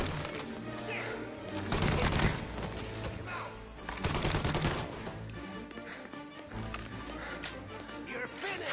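Bursts of gunfire crack through a Mafia game scene, dense rapid volleys swelling and fading over a continuous rumbling background, with shouting voices mixed in.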